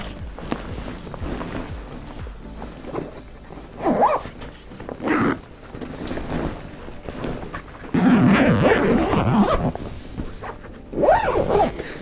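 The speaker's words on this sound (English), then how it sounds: "it has this little cover that just completely zips up" Rain cover on a travel backpack being zipped closed: several quick zipper pulls in separate bursts, close and fairly loud, with rustling fabric between them and no talking.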